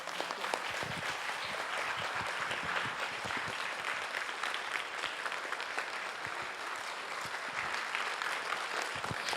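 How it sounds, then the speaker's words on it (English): A room full of people at a conference closing ceremony claps steadily and loudly for several seconds, a dense patter of applause with no talking. "I think she deserves a stand-up applause."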